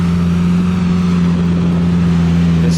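A loud car exhaust rumbles close by at an outdoor car event, a deep, steady drone with a strong low tone that holds at a constant level with no talking.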